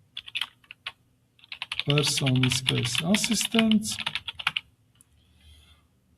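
Rapid keystrokes on a computer keyboard as a name is typed into an AI assistant setup screen, clattering under a man's speech that continues over the typing.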